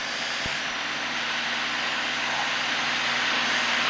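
Steady, loud drone of a light high-performance aircraft engine throttled back to 23 inches of manifold pressure during a short flight, heard continuously from the cabin with a brief click near the start.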